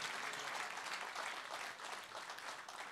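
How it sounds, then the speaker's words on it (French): Church congregation applauding together during a French-language worship service, steady dense clapping filling the space throughout without pause. "Applaudissons pour le Seigneur."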